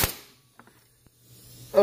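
A hammer strikes a stuck radiator cooling fan to break it free, a few small sharp metallic taps in fairly quiet surroundings, with louder clattering handling noises at the start and end.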